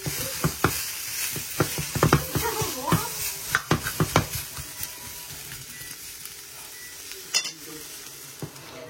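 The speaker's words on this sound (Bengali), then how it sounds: "তো আমার অনিয়ন ভাজা হয়ে গেছে" Onion, chili and garlic fry in a pan with a steady sizzle, punctuated by repeated clacking stirs and scrapes of a spatula, close and moderately loud.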